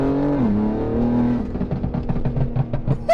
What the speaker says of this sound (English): I'll downshift into second. Oh, listen to those pops.